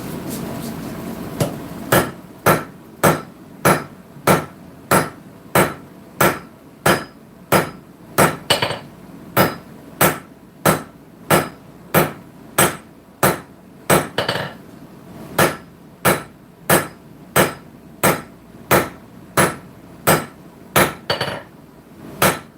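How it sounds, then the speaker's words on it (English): A blacksmith's 5.5 pound hammer strikes a knife tail on the anvil in a steady rhythm of sharp metallic clangs, close and loud, with several dozen blows and a few brief pauses. "Continue forging this tail."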